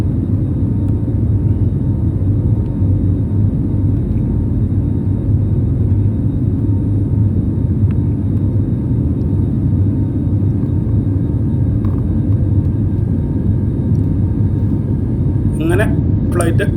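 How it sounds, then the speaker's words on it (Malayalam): Inside a SriLankan Airlines airplane climbing after takeoff from Cochin, a loud, steady cabin engine drone and rumble runs throughout, with a voice talking over it. "എൻ്റെ ഫ്ലൈറ്റും തറയിൽ നിന്ന് മുകളിലേക്ക് ഉയർന്നു കഴിഞ്ഞിരിക്കുകയാണ്."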